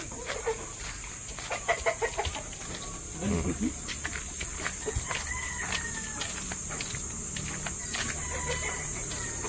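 Chickens, including Rhode Island birds, cluck and squawk while being moved into new coops, with scattered sharp calls and thumps over a steady background hiss, and brief voices now and then.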